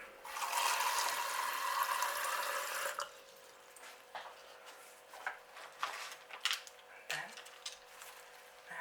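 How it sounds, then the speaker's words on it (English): Water runs into a container for soaking the roots of Masdevallia coriacea and Stelis argentata orchids: a loud steady rushing pour for about three seconds, then quieter drips and small knocks. "I'm going to fill this with water, and then I'm going to just soak these roots."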